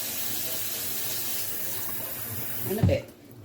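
Water runs from a tap into a cooking pan as a steady, close pouring hiss that swells into a brief louder gush near the end before stopping.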